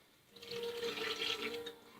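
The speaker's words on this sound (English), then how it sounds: "I'm going to add a cup of water." Warm water pours from a cup into a bowl of flour, a brief, soft, bubbly stream that swells for about a second and a half, then tapers off.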